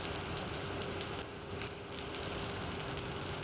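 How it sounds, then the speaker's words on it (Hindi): Steady rain falling during the first winter rainfall in Lahore, Pakistan, a continuous even hiss of drops with no gaps, moderately faint and heard alone without voices. "लाहौर समेत मुल्क के मुख्तलिफ इलाकों में हुई मौसम सरमा की पहली बारिश।"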